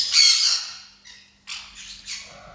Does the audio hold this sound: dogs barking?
no